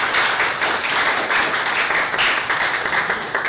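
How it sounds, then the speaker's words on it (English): Dense applause from a crowd, continuous and fairly loud, with the clapping swelling and easing slightly throughout. "Please give her a round of applause."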